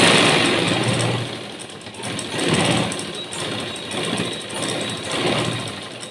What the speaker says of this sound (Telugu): ఇప్పుడు దీని మీద అనిగిపోయే కుట్టు వేసుకోవాలి.